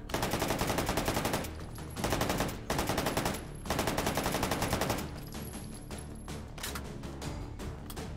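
Rapid full-auto gunfire in the VR game H3VR comes in several loud bursts of closely spaced shots, with short gaps between them and a quieter, lingering stretch toward the end.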